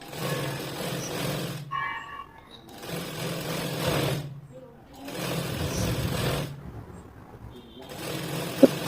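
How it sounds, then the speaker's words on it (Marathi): A sewing machine stitching along the folded edge of a blouse strip, running in several steady bursts of a few seconds each with brief pauses between, close and fairly loud. "ती अशी फोल्ड करून तिला आपण कडेने एक शिलाई मारणार आहे पूर्ण शिलाई मारून घ्यायची तिला कडेने"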